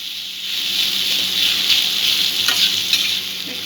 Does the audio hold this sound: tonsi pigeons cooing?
no